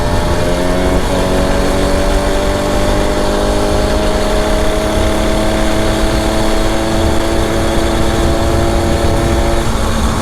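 An 80cc motorized bicycle engine fitted with a 24mm OKO carburetor and Dio reed valve kit runs continuously and loud, a steady buzzing drone with a slight pitch rise as it pulls, wind noise behind it.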